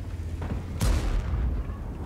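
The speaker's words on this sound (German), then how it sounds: "Sehr schöner Schuss" A tank cannon fires in World of Tanks, a single sharp boom with a broad burst that rings out and decays over a low rumbling battle background.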